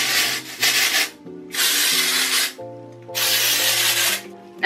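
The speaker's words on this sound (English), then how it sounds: "I am going to put some of the Oribe Dry Texturising Spray on my hair" Oribe Dry Texturising Spray misted onto short hair in three close, hissing bursts separated by brief pauses, with a faint hum underneath and no talking.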